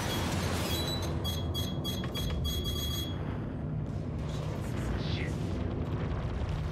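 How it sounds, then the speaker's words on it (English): Missiles launched in the space combat game Star Citizen, a dense rushing burst of rocket exhaust with rapid crackling pops in the first half, fading into a low rumbling roar of spaceship engines and distant impacts. "Missiles away."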